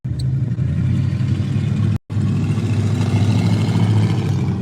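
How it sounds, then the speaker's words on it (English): A loud car engine rumbles steadily outdoors at night, idling and revving at close range, with one brief cut partway through; no one speaks. "you can get some of the loud engines even at night."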